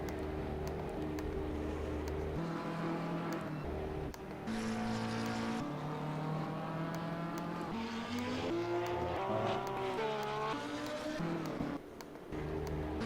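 Race car engines at Imola in Assetto Corsa Competizione, including a Ferrari 488 GT3. Engine notes climb and drop through the gears as cars pass, with a steady loud drone and shifting pitch.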